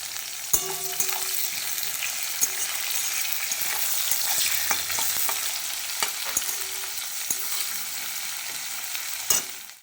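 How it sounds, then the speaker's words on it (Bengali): Onions frying in oil until browned, a continuous strong sizzle with occasional sharp spatula clicks as they are stirred, no voices. "পেঁয়াজটা একটু ভেজে নিই লাল লাল করে।"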